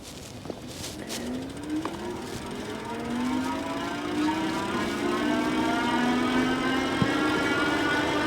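An NIU BQi-C3 Pro electric bike accelerating on throttle alone, with a steady motor whine that rises in pitch as it speeds up, backed by continuous road and wind noise.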